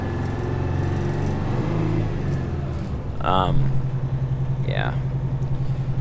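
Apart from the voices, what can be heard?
Peterbilt 359 Detroit 8v92 diesel engine idling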